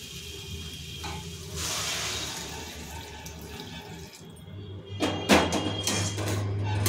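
Hot water poured into a pot of taro and chickpea curry, a soft steady stream with splashing that grows louder toward the end.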